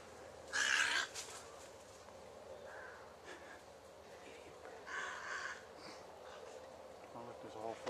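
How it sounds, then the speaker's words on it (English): Birds in the Florida Everglades, with a few loud squawking calls near the start and more calls midway, over a quiet outdoor background with people talking. "I've never seen so many birds."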